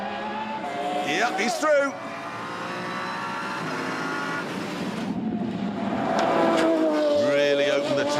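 Race car driven hard through corners by the Stig, engine revving and shifting loudly with surging acceleration, a commentator talking over it.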